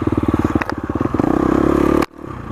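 A 2019 KTM 350 XC-F dirt bike works hard in first gear on a tough trail section, its single-cylinder engine chugging in rapid pulses, then revving up into a sustained roar that cuts off abruptly, close and loud.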